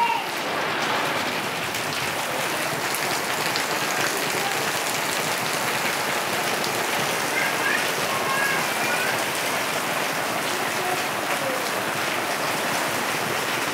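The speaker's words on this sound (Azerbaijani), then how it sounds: "İndi görürsünüz ki yağış necə yağır." Heavy rain pours onto a house yard in Los Angeles, a steady, dense hiss of countless drops that stays even and close throughout, without talk.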